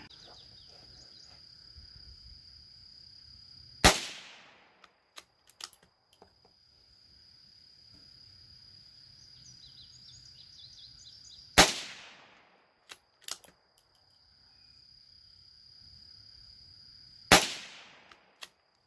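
Three sharp, well-spaced rifle shots from a Mossberg Chuckster 640K .22 WMR firing 40-grain Winchester hollow points ring out outdoors, each with a short decay, over a steady insect drone and faint small clicks.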